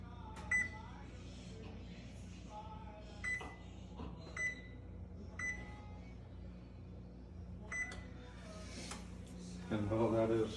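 An oven's control panel beeps a handful of short, sharp tones spaced a second or more apart as it is set to preheat to 375 degrees, over a low steady room hum.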